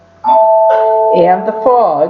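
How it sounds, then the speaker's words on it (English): A home doorbell chimes, a two-tone ding-dong ringing out loud and near with a lingering tone, while a person keeps talking over it. "that's my doorbell"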